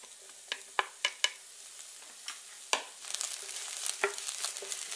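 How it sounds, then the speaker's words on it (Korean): Onions stir-fried in a little oil in a hot pan for Chinese gochu japchae: soft steady sizzle with a handful of sharp spatula clinks and scrapes early on, then brighter, busier frying crackle toward the end. "양파가 약간 투명해질 때까지 볶아준다"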